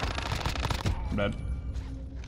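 Rapid bursts of gunfire from the Call of Duty Cold War Warzone battle royale, fast close shots from an LC10 SMG crowding the first second before easing into scattered sounds and background noise.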